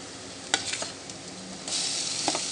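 Chopped tomatoes frying with onion and green chilli, stirred with a spatula: a few quick scrapes early on, then the sizzle swells louder and stays steady, close up with no voices.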